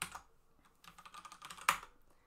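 Close computer keyboard typing, a quick burst of light clicking keystrokes with one louder tap near the end, quiet and unaccompanied by talk.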